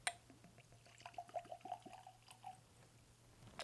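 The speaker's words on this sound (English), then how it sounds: "Let's pour some whiskey." Angel's Envy Cask Strength 2018 whiskey poured into a glass, a short, quiet glugging trickle with a few soft clinks, close and alone.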